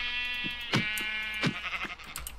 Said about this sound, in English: I'm going to have to kill one of these sheepies.